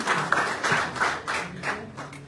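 Conference audience in a hall applauding a speaker, a short burst of mixed claps with a few sharper hand strikes, moderately loud and steady without talk.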